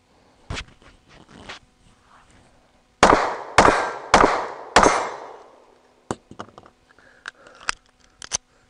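Sharp reports from a Sig P365 pistol: several loud, closely spaced shots in a burst near the middle, with lighter clicks and handling noises before and after, heard up close.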